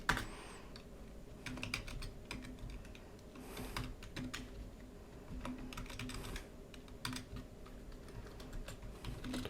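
Steady typing on a computer keyboard, a continuous run of close, quiet key clicks with uneven rhythm over a low background hum, no talking.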